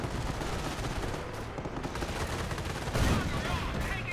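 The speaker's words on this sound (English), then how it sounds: "More from half track firing away" Half-track machine gun firing in Company of Heroes, a dense continuous rattle of gunfire with a heavier burst near the end, loud and close amid battle noise.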